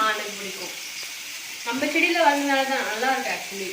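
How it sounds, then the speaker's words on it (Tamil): Onions and tomatoes sautéing in a pan for Kumbakonam-style sambar rice give a steady low sizzle that swells into louder frying and stirring partway through, with no talking. "வெங்காயம் தக்காளி எல்லாம் வந்து நல்லா வதங்கிடுச்சு"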